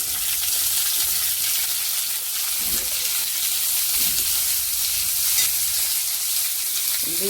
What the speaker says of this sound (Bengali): পেঁয়াজটা ভাজা হয়ে গিয়েছে, এবার বিট আর আলুটা দিয়ে দিচ্ছি।